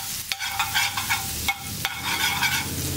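A garlic clove sizzles and bubbles in hot oil in a pan for dhal, a steady close frying hiss broken by a few sharp stirring clinks, with no voices.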